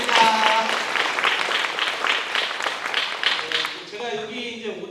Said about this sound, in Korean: 우리 안영화 회장님과 3기 주민자치위원님들께 우리 또 축하의 박수 한번